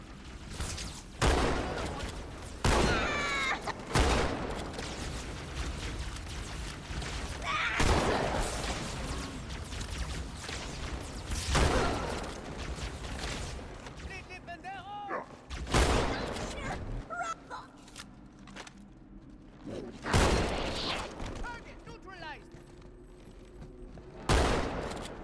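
Sniper rifle fire in Halo 2: Anniversary booms in heavy, widely spaced single shots over several seconds, mixed with other battle noise and a voice talking between shots.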